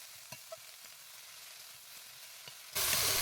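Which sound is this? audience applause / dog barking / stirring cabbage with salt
stirring cabbage with salt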